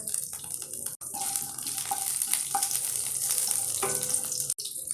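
Green chillies split down the middle and nigella seeds frying in hot oil, with bay leaves, giving a steady, close, continuous crackling sizzle broken by two brief gaps, no talking.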